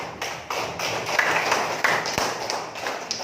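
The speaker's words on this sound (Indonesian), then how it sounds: "Tepuk tangan untuk kelompok 1." Scattered hand claps from a class of students applauding a group after its classroom presentation, steady and moderately loud for the whole stretch.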